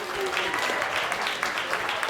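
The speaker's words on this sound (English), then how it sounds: "give them a round of applause" An audience at a Taipei open-mic style event bursts into steady applause, a dense wash of clapping heard close and continuous for the whole stretch.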